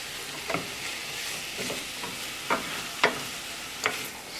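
Butternut squash and onions fry in a pan with a steady, close sizzle, broken by a few sharp scraping stirs; no one speaks.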